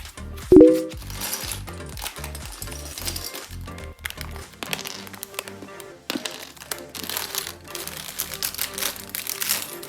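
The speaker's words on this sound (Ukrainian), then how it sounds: "Треба висипати з цього пакетика." Small plastic Lego bricks poured from a bag rattle and clatter in a steady, busy stream, with a sharp louder spill near the start and scattered clicks throughout.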